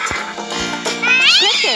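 A cat lets out a quick, bright meow with a sharply rising, sliding pitch, loud and close, following a brief voice in a children's farm-animal game.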